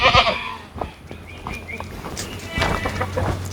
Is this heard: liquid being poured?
no